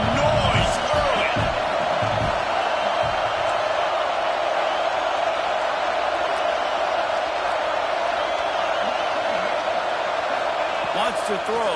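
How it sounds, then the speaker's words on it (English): A packed stadium crowd roars at an ASU vs Michigan college football game, a loud, dense wall of noise that holds steady throughout, with occasional louder cheers and an announcer talking over it. "This crowd bringing the energy and noise early."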